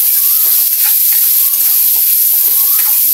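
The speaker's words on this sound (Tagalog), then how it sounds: "I-fry natin ng konti yung pork para mag-brown" Pork browning in a pan with a steady sizzle and crackle of frying, close and continuous, with light stirring clatter.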